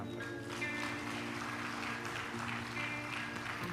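Audience applause during a devotional religious discourse, steady clapping layered with sustained musical tones from instruments or a harmonium droning underneath.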